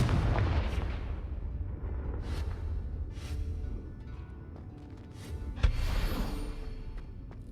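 A Confringo blasting spell going off in the Hogwarts Legacy video game: several heavy booming blasts with rumbling tails, one after another across the clip, loud and close with no talking.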